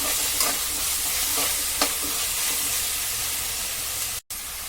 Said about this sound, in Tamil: வெங்காயம் வதங்கினோடனே இஞ்சி பூண்டு பேஸ்ட்டு அதுவும் பச்சை வாசம் போகிற வரைக்கும் வதக்கும்